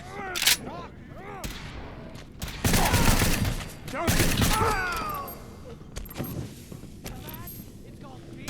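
Fallout 4 gunfire amid a firefight, with loud bursts and volleys of shots, sustained rattling fire and booming impacts, while voices shout over the battle.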